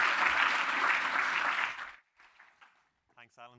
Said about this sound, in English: Please give them a round of applause and welcome to the stage